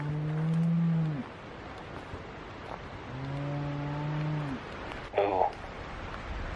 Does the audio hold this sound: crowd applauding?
no